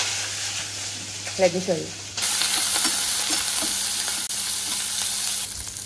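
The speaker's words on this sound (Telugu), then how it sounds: "ఆనియన్స్ అండ్ పచ్చిమిర్చి రెండింటిని బాగా బ్రౌనిష్ కలర్ వచ్చేంత వరకు ఫ్రై చేసుకోవాలి" Onions and green chillies fry in hot oil in a home kitchen, browning. A brief spoken line comes first, then a loud, steady sizzle cuts in abruptly and continues close up with faint stirring.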